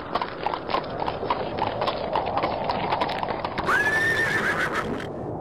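A merchant's horse on a forest path during a storm, its hooves clip-clopping in a steady rhythm while a loud, rising whinny breaks out near the end.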